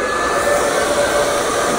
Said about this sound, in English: I'm actually just gonna use my hairdryer.